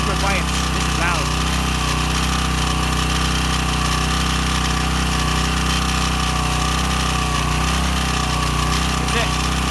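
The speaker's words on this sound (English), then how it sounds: "It's loud. It's not a quiet generator." A Firman portable generator runs loudly at close range during its first start and break-in, a steady, continuous engine drone with a constant hum that holds unchanged from start to finish.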